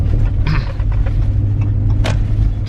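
A car driving along a country road, its steady low engine and road rumble continuous and close, with a few brief higher rattles from inside the cabin.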